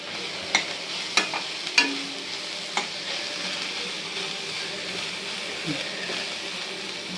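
Onions and green chillies sautéing in a pan, a soft continuous sizzle with several sharp spatula taps and clinks early on, then steady frying hiss.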